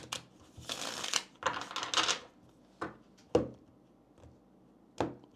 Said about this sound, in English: let me go ahead and shuffle these cards